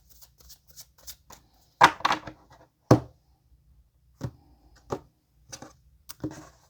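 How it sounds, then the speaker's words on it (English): A tarot card deck being shuffled and cut by hand, scattered soft card slaps and riffles with a few sharper snaps, close and quiet between hits, no talking. "All right, gonna cut the deck."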